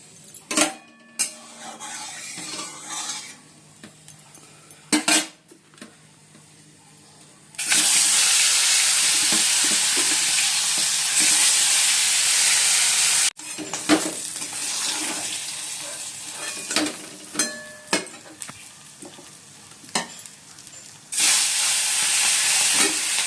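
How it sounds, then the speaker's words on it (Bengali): Fish rubbed with salt and turmeric fries in oil in a kadai, with loud bursts of hissing sizzle alternating with quieter stretches of clinks and kitchen clatter. "মাছ তো ধুয়ে নুন আর হলুদ মাখিয়ে নিয়েছি আর কড়াইতে তেলও দিয়ে দিয়েছি"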